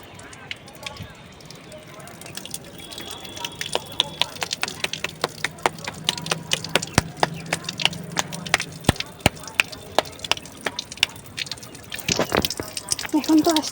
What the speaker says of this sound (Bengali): জল অনেক আস্তে আস্তে বেরোচ্ছে